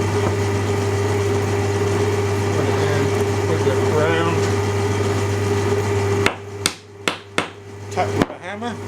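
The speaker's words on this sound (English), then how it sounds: "Tap with a hammer" Several sharp hammer taps on a glued joint during a woodworking build of a monk's bench, sounding close and distinct, following a stretch of steady humming background noise.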